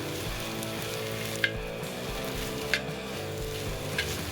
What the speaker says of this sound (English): let's get our rice fried up a little bit